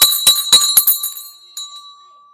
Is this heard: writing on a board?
no